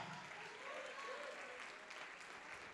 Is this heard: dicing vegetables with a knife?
no